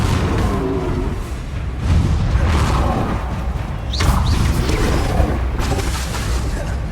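Bombardo and Confringo spells explode in Hogwarts Legacy combat with loud booming blasts and crashes, spaced across a dense, noisy fight with a few sharp magical zips.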